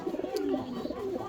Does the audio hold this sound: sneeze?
no